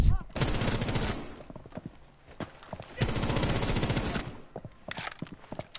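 Gunfire in the video game Rainbow Six Siege comes as bursts of rapid automatic shots in two long volleys with scattered single shots between them, loud and close, with a player's voice partly heard alongside.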